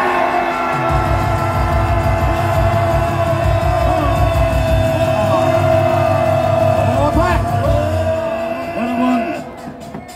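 A large crowd at a national rally roars in a sustained, loud wall of shouting and cheering that holds for several seconds before tapering off.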